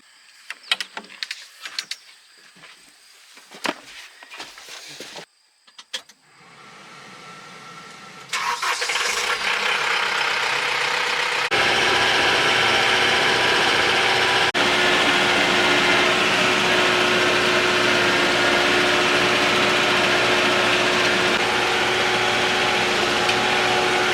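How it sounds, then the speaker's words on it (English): A Woods 720 brush hog mower on a tractor starts up after a few scattered knocks, then roars into a loud, steady, broadband drone that holds unbroken for the rest of the stretch. "this is a Woods 720 brush hog"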